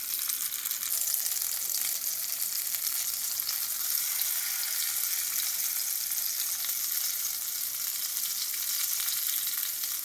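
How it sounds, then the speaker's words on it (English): Potato patties lightly sautéing in oil for ragda pattice, a steady, even sizzle and crackle of frying that carries on without pause, close and clear. "we prefer the light sauteing because it gives that hint of oil and the flavor, and also gives the crunchiness"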